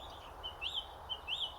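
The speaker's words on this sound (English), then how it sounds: "There's a song thrush singing here and also a white throat." Two short rising bird calls repeat about a second apart over a steady outdoor hum during the dawn chorus, with a song thrush and whitethroat singing and faint birdsong in the background.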